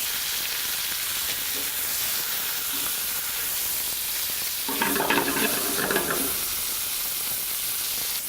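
Marinated pork tenderloin searing on a stovetop grill, a constant loud sizzle and hiss close by, with a brief louder spitting burst partway through and no voices.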